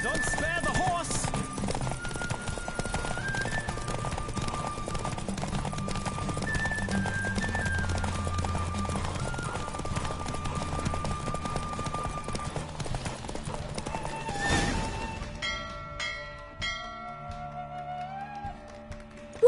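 Horse hooves clip-clopping at a fast gallop during a race in the video game Witcher 3, with a neigh and a swell of game music and effects near the end.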